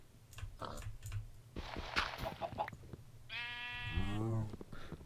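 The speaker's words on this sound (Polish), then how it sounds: "Owca!" People talk briefly, then one drawn-out sheep bleat from Minecraft sounds close by, with a voice cutting in as it fades.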